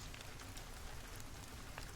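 Steady, even rainfall patters on a surface, a soft continuous hiss with scattered drop ticks and no voices, as a calm bed beneath a bedtime story reading.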